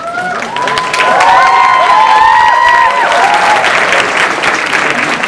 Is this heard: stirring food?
no